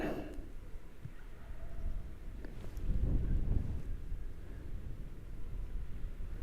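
Wind blowing across an outdoor shooting range: a steady, soft rush with gusty low rumble that swells in the middle, faint and continuous, with no voices.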